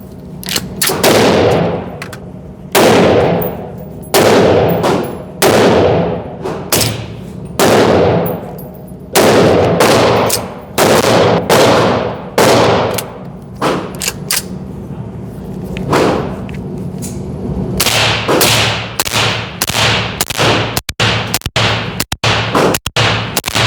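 A PaK MuLe pistol fires a string of loud, close shots in uneven groups, each crack ringing with a metallic clang, until the slide locks back on the last round; no talking.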